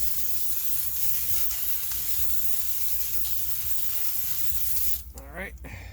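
Battery terminal cleaner and neutralizer hisses from a spray can onto a motorhome's 12-volt battery in one continuous close spray lasting about five seconds, then cuts off into quieter handling noise.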